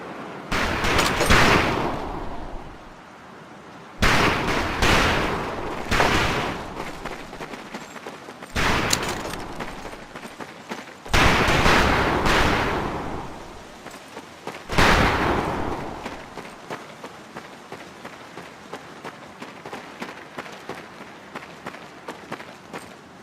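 Video game battle gunfire from Medal of Honor Pacific: loud bursts of rifle and heavy weapon fire arrive in about five separate volleys, each followed by a fading rumble, with lighter crackling shots continuing toward the end.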